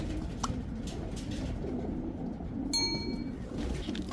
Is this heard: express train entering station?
no